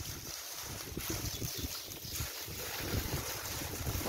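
Water gushes steadily from a cracked pipeline fed by a running well pump motor in a village, a continuous broadband rush that stays close and even throughout with no voices.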